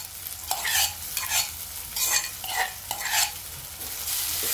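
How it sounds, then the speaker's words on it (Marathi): Coarse paste of green chili, garlic and cumin sautéed with onion and tomato for a ridge gourd chutney, loud sizzling with repeated scraping stirs in an uneven rhythm, close and without talk. "याला पण चांगलं परतून घ्यायचं"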